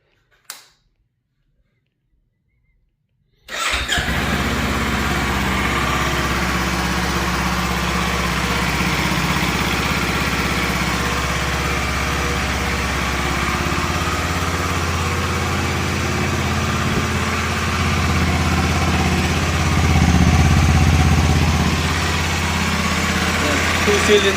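A 2026 Kawasaki Ninja 500 SE two-cylinder motorcycle starts from cold after a few seconds of near silence, then settles into a loud, steady, close idle with a low throbbing hum that rises slightly near the end.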